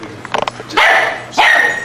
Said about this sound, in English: So the little one's barking there.